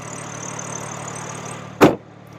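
A 2024 BMW M4 with the S58 3.0-litre inline-six twin-turbo engine, 473 horsepower and a manual gearbox, idles with a steady low hum, broken near the end by a single sharp thump.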